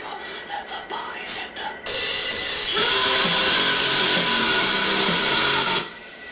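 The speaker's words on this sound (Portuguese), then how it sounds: "E para vocês verem como a música tá bem alta mesmo... É rock pesado, tá?" Heavy rock music blasts from headphones held away from the ear, a harsh, tinny, distorted wall of sound lasting about four seconds, framed by brief soft rustles before and after.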